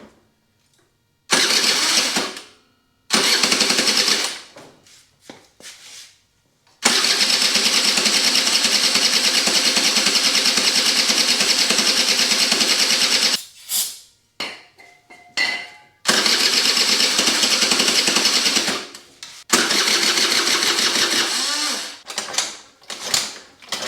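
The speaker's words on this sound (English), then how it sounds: "I'm just going to see if I can get it to pull some fuel and idle." A 2004 Kymco Super 9s scooter engine is cranked and started several times up close. Short bursts of running are broken by silent gaps, then longer stretches of steady idling follow, ending in a few brief revs.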